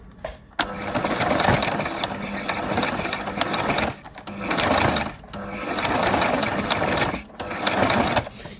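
A sewing machine stitching and gathering lace runs in loud, steady mechanical bursts of rapid whirring, pausing briefly between runs, close up with no voices.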